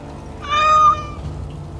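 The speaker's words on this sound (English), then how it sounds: "that's a pretty sick meow you got there going on" A cat companion in the video game Dragon Age: Awakening gives a single clear, drawn-out meow of about half a second, loud and alone over quiet background.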